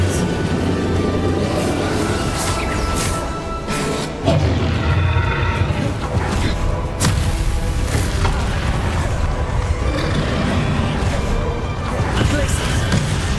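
Spell blasts from Hogwarts Legacy, including Confringo, Glacius and Incendio, boom and crash in rapid succession as combat effects layered over a dense, roaring game mix, loud and continuous, with a sharp impact near the middle.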